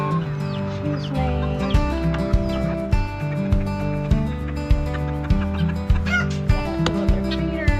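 Chickens and baby chicks on a farm at feeding time on a warm spring day, with a dense overlapping chorus of clucks and peeps and sharp pecking taps, close and continuous.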